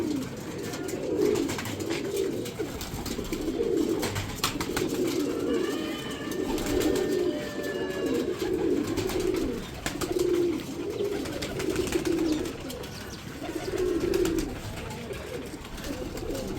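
Pigeons coo in repeated low, throaty bursts, close by and continuous, with soft rustling and faint chirps around them, after feeding on grain.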